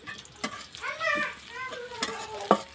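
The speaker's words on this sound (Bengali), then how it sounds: "পেঁয়াজ আর রসুনটা আমি ভালোভাবে ভেজে নেব" Onion and garlic frying in a pan with a bay leaf and dried chilli, a soft sizzle with a few spoon scrapes, while a voice speaks over it.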